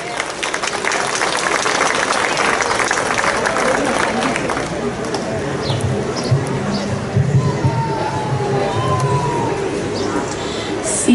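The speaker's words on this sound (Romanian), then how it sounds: "să primim cu aplauze!" Audience applause at a Romanian folk song contest welcomes a 10-year-old girl singer from Muntenia to the stage; dense clapping and crowd noise fill the first few seconds, then thin out under a steady hall murmur with voices.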